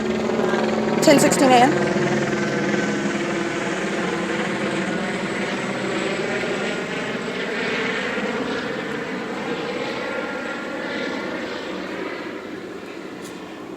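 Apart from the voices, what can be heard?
police helicopter flying overhead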